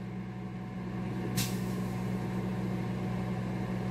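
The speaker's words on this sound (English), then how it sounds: "will that tater blow up in the microwave?" Steady, continuous hum of a microwave oven heating a baked potato, with a low drone running throughout, a brief hiss at about one and a half seconds, and no voices.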